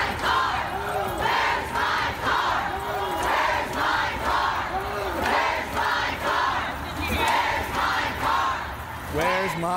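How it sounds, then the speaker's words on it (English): A large crowd at the Oklahoma Capitol roars and chants in rhythmic, repeated surges, loud and continuous like a rally echoing through a big interior space. "Listen to the crowd."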